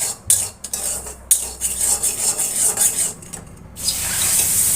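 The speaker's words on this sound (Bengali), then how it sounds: "সুজিটা একটু হালকা ভেজে নিচ্ছি।" Semolina is lightly roasted in a pan while a spoon stirs and scrapes the metal, giving close, uneven scraping and rubbing strokes over a soft background hiss.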